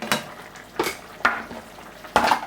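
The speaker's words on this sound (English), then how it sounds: "So this is just boiling away" Sauce of vinegar and brown sugar bubbles and sizzles in a pan, with four louder bursts of spitting and stirring noise rising over a steady low simmer.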